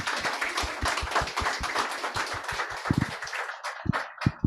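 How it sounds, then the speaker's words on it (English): Applause from an audience at the close of a seminar on smart construction, a brisk run of sharp hand claps that thins out to a few scattered claps at the end. "Please give her a big round of applause."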